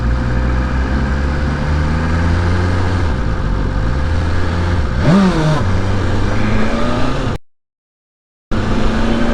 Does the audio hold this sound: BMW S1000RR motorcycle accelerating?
yes